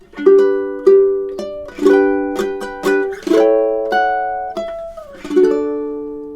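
A solo ukulele plays the Romantic classical piece "Bella Vita," a gentle, flowing melody, plucked notes ringing over each other with a few quick strums, measured and unhurried.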